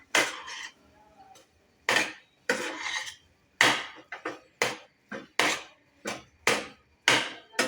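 A spoon mixes semolina sheera with chopped nuts and raisins in a pan, giving a series of sharp, evenly spaced knocks and scrapes against the metal, close and distinct with short quiet gaps between.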